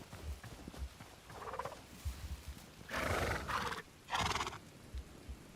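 Horses in the video game Hytale neigh in a couple of loud, drawn-out whinnies amid soft clip-clop hoofbeats and quiet ambient game sounds.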